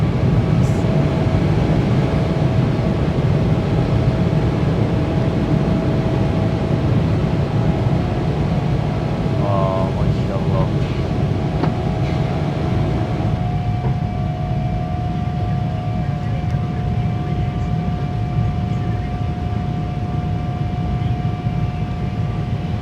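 Cabin of a passenger jet flying from Jeddah to Islamabad as it begins its takeoff, a loud, steady engine roar and rumble filling the whole stretch with a faint tonal whine above it and no talking.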